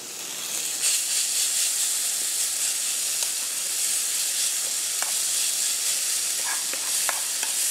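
Garlic and cherry tomatoes sizzle steadily in a frying pan, a loud, even hiss with a few soft pops and stirring clicks, and no talking.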